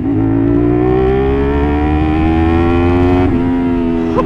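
A CFMOTO 450SR motorcycle fitted with a DIY quick throttle revs loudly close up, its engine holding a steady drone with a slight pitch rise, then a brief dip and blip near the end.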